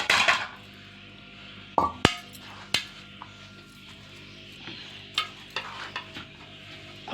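A spoon scrapes and stirs spiced mashed potato filling for aloo paratha in a pan, with sharp metallic clinks and taps at irregular intervals over a faint background hum. No one speaks.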